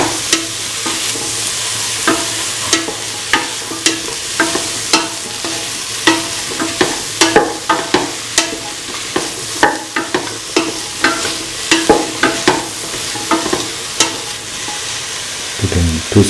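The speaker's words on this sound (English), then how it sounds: "Mix with the rest of the ingredients." A spoon or spatula stirs cauliflower and bottle gourd pieces with rice in a hot pan, making a loud continuous frying sizzle punctuated by regular scraping knocks against the pan.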